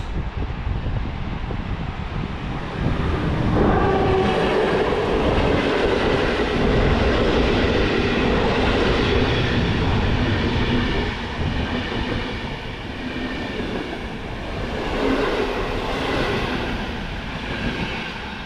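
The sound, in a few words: passenger train slowly passing through station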